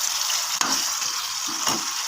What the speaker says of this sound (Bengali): দেখতে পাচ্ছ কষানো হচ্ছে।